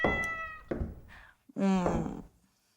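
A pet cat meows indoors, with a drawn-out harmonic meow followed by a second, louder meow after a short pause, close and clear, interleaved with someone talking to it.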